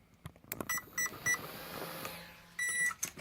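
The ESC of a Tamiya Hotshot RC car gives a series of short, faint electronic beeps, first in a quick irregular run and then in a longer tone near the end, after being plugged back in. No one speaks.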